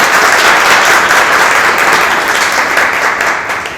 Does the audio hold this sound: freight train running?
no